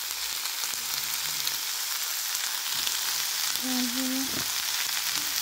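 Vegetables frying in hot oil give a steady, broad sizzle that runs through the whole stretch, with a brief utensil tone near the end and a few spoken words over it.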